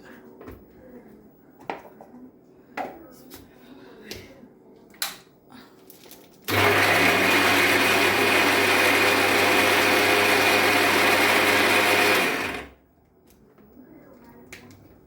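A kitchen mixer grinds sautéed tomato, onion and ginger in one loud, steady whirring burst lasting about six seconds, preceded by a few light taps and clicks and ending abruptly into quiet.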